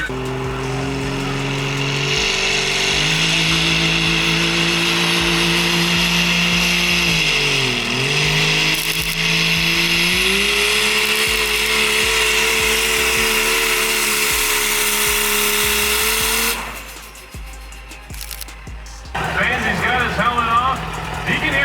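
A diesel truck runs hard on a drag dyno at an outdoor callout event in Arizona, a loud sustained engine roar with rising and falling pitch, then cutting off near the end into crowd noise and a voice.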